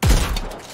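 A single heavy shotgun blast in the Anthem shooter on PC, a loud booming thud with a short crackling decay, alone and close.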